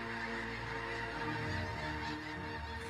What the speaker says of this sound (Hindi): तकरीबन 5 लाख स्नो गीज आ पहुंचे हैं।